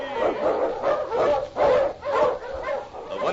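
Eskimo husky lead dog barking repeatedly in a steady rhythm of sharp, loud barks, close and prominent, in an old-time radio Yukon adventure drama setting.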